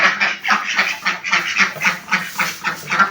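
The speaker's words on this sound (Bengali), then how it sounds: "এই যে আমার হাঁস।" Ducks quack repeatedly inside a dim village cowshed where they are kept alongside cows, a steady run of close, loud, rhythmic calls with several birds overlapping and no talk.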